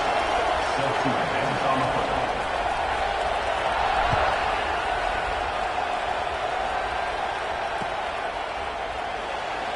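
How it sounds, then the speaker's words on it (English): A college football crowd at an Ohio State Buckeyes game keeps up a steady, loud roar of cheering just after a score, with a commentator talking over it throughout. "this crowd is buzzing after that last score"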